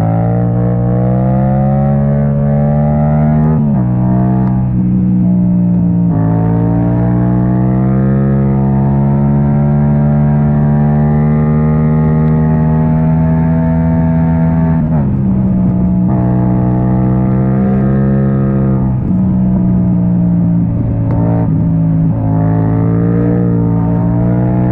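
A Yamaha MT-07 motorcycle with an Akrapovic exhaust, loud and up close, its deep, throaty engine note holding steady for long stretches and rising and falling with throttle blips.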